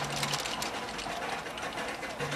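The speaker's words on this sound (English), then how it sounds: "It seems like a snowmobile, bulldozer tracks with a steerable sled, but steam-powered." A steam-powered tracked sled, built like a snowmobile on bulldozer tracks with a steerable runner, chugs along in a steady, fast mechanical clatter that stays close and even for the whole stretch.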